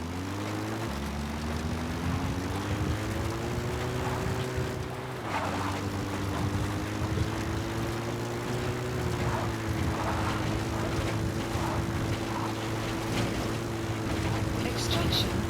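Support helicopter arriving in Metal Gear Solid V: The Phantom Pain, a steady droning rotor and engine hum with a low tonal whine that shifts pitch slightly, continuous and moderately loud across the whole stretch.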